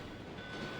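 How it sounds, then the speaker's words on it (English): A train in the original Resident Evil 2 video game gives off a faint, steady rumble of rolling rail noise. The sound is continuous and distant, with no voices. "it's a train"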